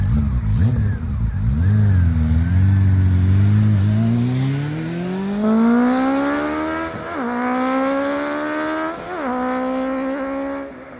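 A Honda CB400 four-cylinder motorcycle with a Yoshimura exhaust revs hard, climbing through the VTEC changeover with rising pitch and sharp shifts, loud and close throughout with no talking.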